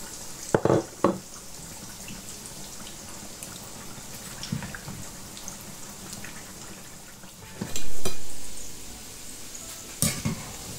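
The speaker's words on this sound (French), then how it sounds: "je vais passer à la friture de mes pommes de terre" Steady hiss of potatoes frying in oil, with occasional louder pops and stirring clatters breaking through the continuous sizzle.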